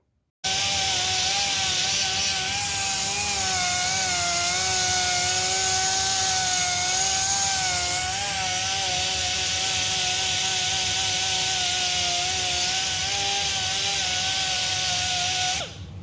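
A loud, continuous air-tool whine buffs a Chevy 327 engine block with an air compressor running, a steady high-pitched drone holding for about fifteen seconds, close and unbroken, with no talking.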